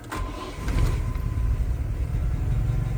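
A Volga with a 402 engine idles steadily during a clutch test, a continuous low mid-range engine rumble heard close and fairly loud throughout, with a slight swell near the start.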